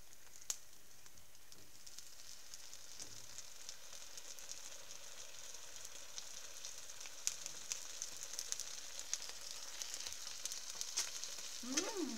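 Vegetarian sausages sizzle steadily in a frying pan over the flame, a constant bright crackle with a few sharp pops and a brief scrape near the end, with no one talking.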